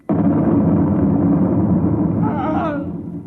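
A sharp, metal-ripping explosion effect from a radio drama bursts in loudly at once and holds as a dense, roaring rumble, with a rising whistling tone near the end as it slowly fades.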